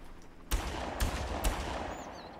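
Three sharp gunshots in the video game Far Cry ring out about half a second apart over a steady background hum, fairly faint and with a slight echo.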